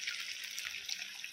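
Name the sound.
pouring coconut milk into prawn malai curry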